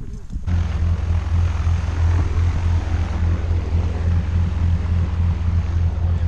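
A propeller airplane waits for skydivers, its engine a steady, loud, close drone that runs throughout, with faint voices under it.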